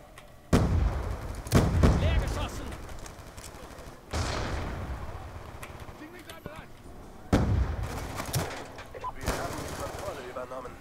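An M27 rifle with an attached grenade launcher firing in Call of Duty Black Ops 2, three loud booming blasts spaced several seconds apart, each trailing off into rumbling gunfire and game noise.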